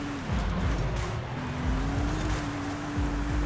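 2021 Bentley Flying Spur driving in Forza Horizon 5, a steady close engine drone that dips and recovers with shifts, with rumbling off-road tire noise and no talk.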